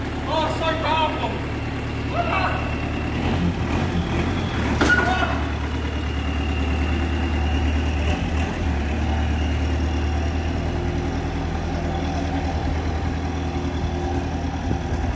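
A classic Range Rover under restoration drives in low range, its engine a steady low rumble throughout, with people talking over it and a brief rev early on.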